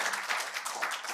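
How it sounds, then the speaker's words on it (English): Applause in a conference hall for a professor at an academic session, a dense steady wash of many hands clapping at moderate level, with no pauses across the short stretch. "please, one more round of applause for Professor Lee"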